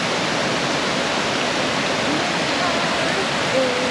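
Constant rushing water roars as a broad steady wash of noise, unbroken throughout, from a waterfall in a Colorado box canyon heard nearby.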